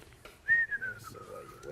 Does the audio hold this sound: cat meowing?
no